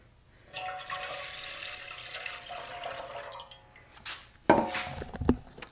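Water runs into a stainless steel gas tank, a hollow, rushing pour that swells and holds steady before breaking into sharp metallic splashes and knocks near the end.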